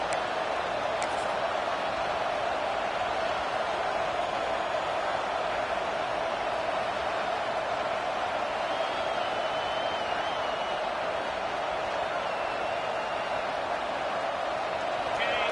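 Football stadium crowd at a Vols versus Longhorns game roaring steadily on a fourth-down defensive stand, a dense continuous wall of cheering under a commentator's voice throughout.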